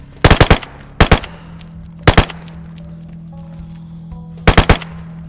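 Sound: gunfire in the video game DayZ

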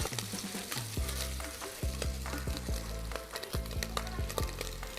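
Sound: stir-frying carbonara ingredients in a pan

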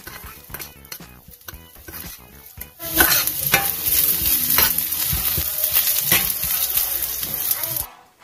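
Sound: onion frying in mustard oil

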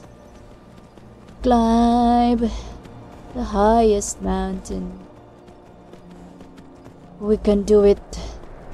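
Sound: horse hooves clip-clopping in Skyrim video game

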